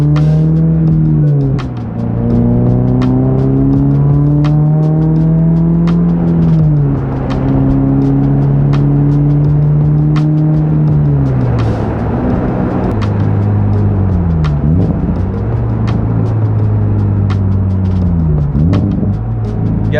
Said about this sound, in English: You guys hear the burble on the downshifts?